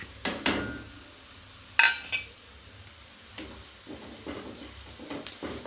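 Malabar spinach curry base with onion, chili powder and turmeric gets sautéed in a pan, with a few sharp spoon scrapes and clanks over a soft background sizzle, then lighter intermittent stirring.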